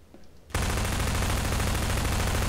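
Gunfire in Half-Life 2 in Ravenholm: after half a second of near quiet, a loud, dense, continuous burst of rapid shots roars without a break to the end.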